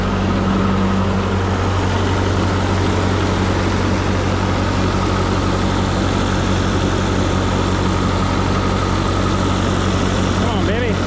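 A Ford 2N tractor engine idles steadily and smoothly, a loud, even low rumble with no rattling or knocking, running alone without talk for the whole stretch.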